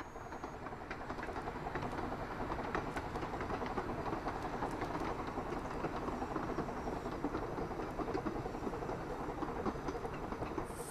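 A Talyllyn narrow gauge railway train runs along the Welsh line from Tywyn, giving a steady, continuous rumble and rolling clatter with no pauses.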